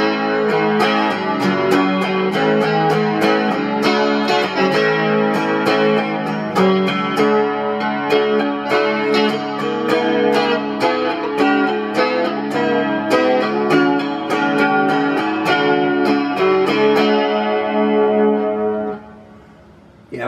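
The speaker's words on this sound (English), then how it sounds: "Clean channel with chorus." Electric guitar played through a Peavey Backstage Chorus 208 amp on the clean channel with chorus engaged, strummed chords and picked notes ringing loud and continuous, shimmering like a 12-string, then fading out at the end.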